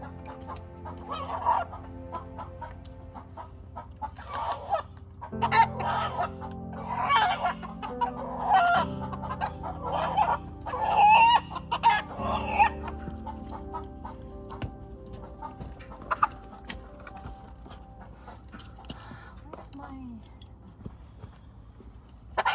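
Chickens and roosters on a farm clucking and crowing, with repeated raspy calls and a few longer crows over a steady low background hum, moderately near, while people talk intermittently.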